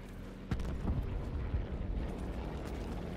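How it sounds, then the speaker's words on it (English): A muffled low boom from a grenade blast in Call of Duty Blackout, rumbling deep and heavy for a couple of seconds with a few thudding aftershocks, no talking over it. "Let me throw a grenade in there."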